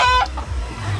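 Backyard chickens cluck and a rooster-like call sounds briefly up close, short and fairly loud over a low outdoor rumble.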